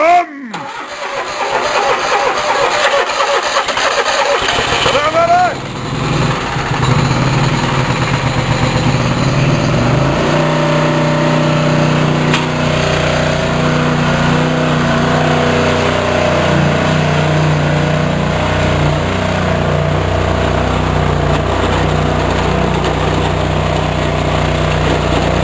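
A Toro engine cranks cold with a long belt drive, catches and then runs steadily at a loud, close idle for the rest, a voice speaking briefly near the start.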